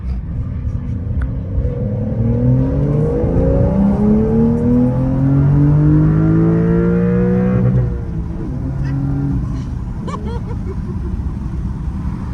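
A 2025 Porsche 911 Carrera T pulls away hard, its engine note climbing loudly through several upshifts before easing off and settling into a lower, quieter drone.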